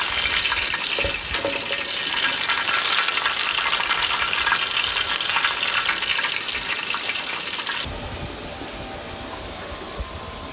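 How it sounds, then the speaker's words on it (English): Loud, steady sizzling of fish frying in hot oil in a wok, continuous throughout and easing slightly toward the end. "we're not frying a whole lot of fish, but we'll make it work"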